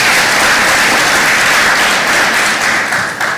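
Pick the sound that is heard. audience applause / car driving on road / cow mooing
audience applause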